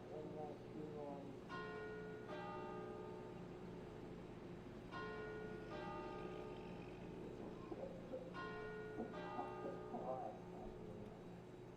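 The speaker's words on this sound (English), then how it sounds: "The church bell mocks you." A church bell in the My Winter Car video game tolls faintly in spaced pairs of ringing strikes, each decaying slowly over a low, steady hum.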